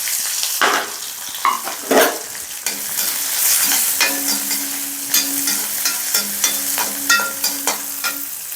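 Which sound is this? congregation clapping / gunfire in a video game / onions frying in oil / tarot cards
onions frying in oil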